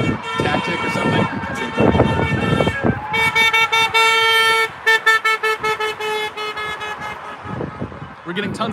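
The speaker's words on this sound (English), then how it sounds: "driving by, honking their horns" Passing cars honk their horns at a workers' strike picket, a mix of long sustained blasts and rapid repeated toots from nearby vehicles, over traffic noise and people talking.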